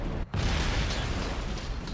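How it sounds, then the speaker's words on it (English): A loud, dense blast of explosion noise in the game Turok fills the whole clip, with a brief dip near the start before the roar surges back and rumbles on. "It wasn't that big of an explosion, but big enough."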